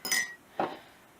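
A spoon clinks against the side of a pot or bowl while soup is stirred. Two short, quiet metallic taps come about half a second apart, close by, in an otherwise still room.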